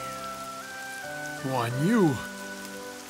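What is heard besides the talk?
heavy rain in a Dynasty Tactics video game cutscene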